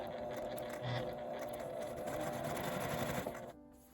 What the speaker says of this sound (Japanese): ここは縫い代が少し固まっているので、ゆっくりミシンを回します。